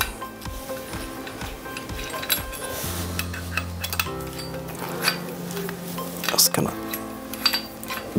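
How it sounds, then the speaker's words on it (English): Small metal screws dropped one after another into a dish while attaching a Freefly Toad in the Hole mount, giving several sharp clinks and rattles over a voice. "Drop some of the screws so they don't go on the floor"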